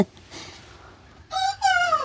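Chickens at a backyard coop give a faint cluck, then a loud rooster crow rings out nearby in two drawn-out bursts.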